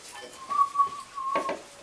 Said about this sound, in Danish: Igen høres en fløjten nedefra.